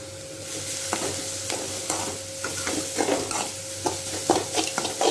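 Grated carrot sautéing with onions in a pan, a low constant sizzle with repeated scraping and tapping strokes of a spatula, close and moderately loud.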